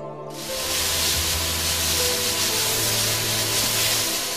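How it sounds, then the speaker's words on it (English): A loud, steady hiss of pesticide spraying over grape vineyards in Nasik, India, rushes in after a brief quiet start and holds at full strength under a low mechanical drone. "It is pesticides being sprayed on grape vineyards in Nasik"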